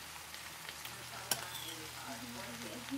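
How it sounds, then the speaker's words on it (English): Bacon bits sizzling in a pan with Brussels sprouts, a steady close frying hiss with a light stir clatter partway through. "And now I'm going to add my bits of bacon."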